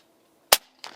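One sharp, short crack from an Air Arms S510XS Stealth Carbine .177 air rifle firing a JSB pellet, followed by a faint, brief second sound.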